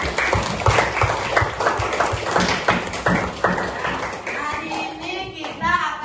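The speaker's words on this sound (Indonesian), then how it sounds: "Tepuk tangan sekali lagi untuk kita." A third-grade class claps hands together, a run of quick, fairly close rhythmic claps with some scattered taps, then a child's or teacher's voice rising over fading claps near the end.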